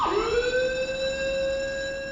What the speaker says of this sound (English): the fire and general alarms